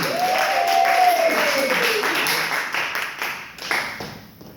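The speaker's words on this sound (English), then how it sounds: "Make a whole lot of noise right now for Christy." A crowd claps and cheers loudly, with a rising whoop over the dense applause, which thins out and fades over a few seconds.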